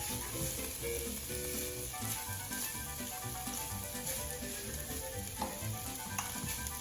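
Pineapple fried rice sizzling in a pan with soy sauce added, a continuous crackling fry with light stirring clatter, close and moderately loud, no voices.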